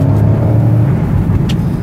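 A 2006 Chevrolet Monte Carlo accelerating on the road, a loud, steady low engine drone heard from inside the car, with a brief faint hiss near the end and no talking.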